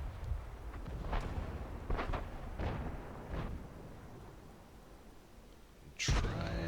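Tank cannon fire in the World of Tanks video game, several heavy booming shots spaced a second or so apart, followed by a quieter stretch and then a loud, close blast near the end.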